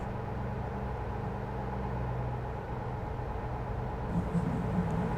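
A quiet, steady low hum of a Tesla Semi electric truck rolling along in American Truck Simulator, smooth and even, with faint rising tones toward the end.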